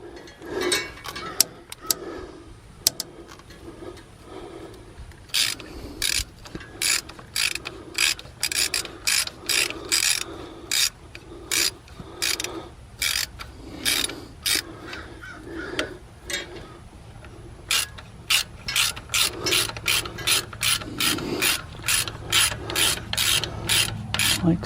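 Ratchet wrench snugging up a fitting on a Cummins diesel injector pump for a Case 580, heard as close bursts of rapid clicking strokes, sparse at first and then in steady, quick repeated runs.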